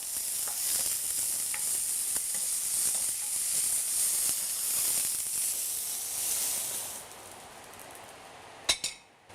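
Sliced zucchini, lightly salted, stir-fries in a pan for Korean japchae with a steady, close sizzle and faint scrapes of stirring, then the hiss fades near the end and a couple of sharp clatters break through.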